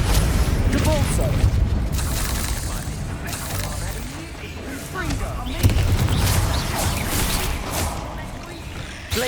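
Repeated booming spell blasts from Repulsor in Hogwarts Legacy, loud and close, with several impacts across the stretch over busy game noise.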